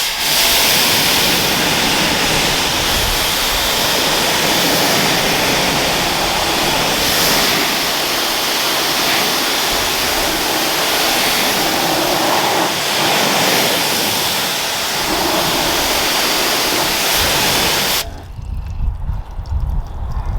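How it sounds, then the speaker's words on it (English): Strong water spray from a pressure washer rinsing snow-foam pre-wash off a car panel, a loud continuous roaring hiss for about eighteen seconds before it cuts off abruptly, leaving quieter dripping and splashing. "let's rinse the pre-wash side off and see what that looks like"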